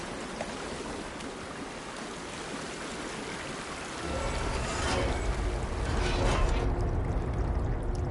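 Water drains away in Horizon Forbidden West, a steady rushing flow that swells into a louder, deeper gushing torrent partway through, alone without talk.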